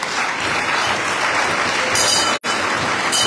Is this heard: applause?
yes